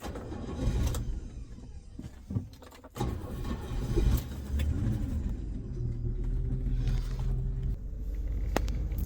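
Rolls Royce Silver Shadow on a warm shakedown run after hydraulics repair, a steady low engine and road rumble from inside the car with a few knocks and clicks along the way.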